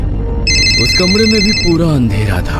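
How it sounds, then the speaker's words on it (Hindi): A mobile phone ringtone rings loudly in a dark room in an empty, silent house, a steady electronic tone that starts partway in and continues under a narrating voice. "तो एक कमरे में उसका मोबाइल बजने लगा।"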